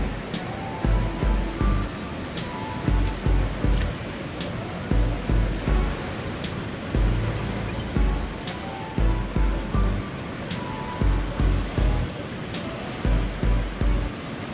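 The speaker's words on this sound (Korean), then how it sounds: "파도가 거칠게 몰려오네요." Rough sea waves roll in and crash on a rocky shore near Naksansa temple on the Yangyang coast, steady surging roar with rhythmic breaking pulses, close and loud, with no voices.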